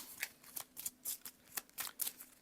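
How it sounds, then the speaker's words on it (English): A deck of board game cards being shuffled, a quick run of soft riffling flutters in an even rhythm, close and quiet with no talk. "So I'll give these a shuffle."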